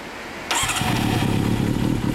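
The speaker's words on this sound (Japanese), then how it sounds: "エンジンを聞かせてもらえますか？" A 2001 Kawasaki Zephyr 400 fitted with a Midnight exhaust fires up after a short quiet moment, then settles into a loud, close, lumpy idle that burbles on alone.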